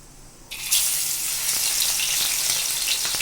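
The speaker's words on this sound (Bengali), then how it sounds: "সব মাছ মাখা হয়ে গেছে এবার আমি ভাজবো" Small pabda fish, rubbed with salt and turmeric, hit hot oil in a pan: quiet for half a second, then a sudden loud, steady hiss of frying that carries on alone.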